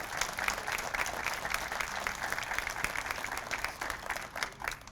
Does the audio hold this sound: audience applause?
yes